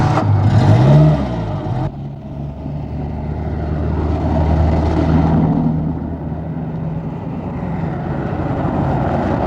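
A car starts and pulls away in 1979 Portugal, its engine rumbling steadily and swelling as it drives off, loud and close with no talk over it.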